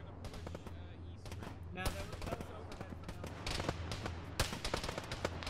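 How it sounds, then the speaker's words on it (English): Gunfire in Arma 3 during a building sweep, rapid irregular shots and short bursts cracking repeatedly at moderate distance, with voices talking faintly in between. "Some just shot at me."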